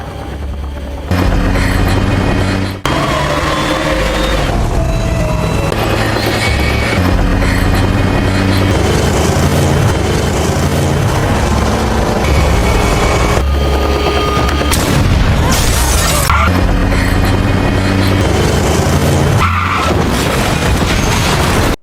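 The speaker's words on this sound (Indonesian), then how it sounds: "dengan sekali tembakan pria berkumis itu berhasil memolak-malikkan mobil merah itu" A film car chase plays out with loud, continuous action sound: engine roar, tyre skids and booming crashes as a red car is shot at and flips over, dense and unbroken for about twenty seconds.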